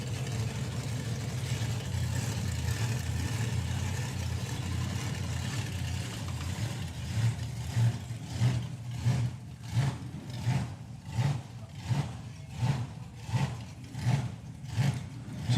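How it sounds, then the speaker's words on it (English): A drag racing hot rod engine idles after a burnout, hunting for fuel at tick over: a rough, loping rumble that settles into a rhythmic pulsing surge roughly once a second, fairly close and with no talk. "Here Alan Schofield backing up after the burnout with the engine hunting for fuel there on tick over."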